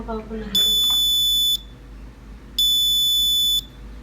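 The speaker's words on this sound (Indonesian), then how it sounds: "apabila suhunya melebihi suhu optimal, maka buzzer akan menyala untuk memberikan peringatan kepada pemilik rumah agar mengambil pakaiannya" The buzzer of an IoT smart clothesline temperature sensor sounds two loud, steady, high beeps of about one second each, separated by a one-second pause, after a brief voice at the start.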